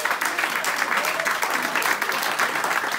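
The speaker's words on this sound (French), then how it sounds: "Applaudissons Jésus" A church congregation at a French-language service claps loudly and continuously in praise, a dense, even wash of hands filling the room with no pause.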